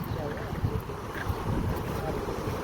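Steady seaside wind buffets the microphone with a continuous low rumble and rushing noise, with faint water sounds beneath.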